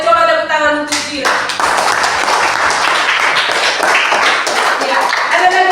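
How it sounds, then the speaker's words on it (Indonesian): A classroom group claps for a presenter after a group presentation, a dense, loud burst of hands starting abruptly after a brief tone, continuing steadily with some voices mixed in. "coba tepuk tangan untuk Jire."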